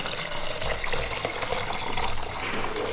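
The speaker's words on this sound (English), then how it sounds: "If we add this water" Water pours into a measuring container in a classroom capacity lesson, a continuous splashing, gurgling rush heard up close, with no talk over it.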